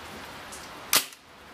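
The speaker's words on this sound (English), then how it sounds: "We're going to put 5 rounds through this and see what kind of real world feet per second we can get out of this fine little BB machine gun" A ZMZ Tyrex 4.5mm BB machine gun fires a single sharp semi-auto shot, a loud close crack with a brief tail over quiet room noise.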